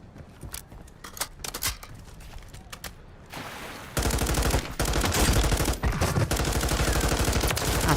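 Video game gunfire: sparse single shots at first, then a loud continuous burst of rapid automatic fire dominating the second half, with no voices.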